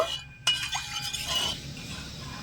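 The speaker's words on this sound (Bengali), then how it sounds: "এবারে নেড়ে ছেড়ে জলটা একটু ফুটিয়ে নেব" A pot of lightly salted water is stirred, with a sharp clink of a utensil against the rim followed by soft swirling and scraping; close and fairly quiet, with no talk.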